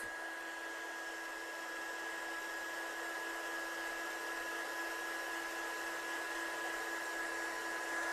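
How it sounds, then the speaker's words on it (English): A heat embossing gun blows steadily, a constant whirring hiss with a fixed motor whine that stays level and close throughout, with no talking. "So let's heat set this one. I'm getting my gun hot."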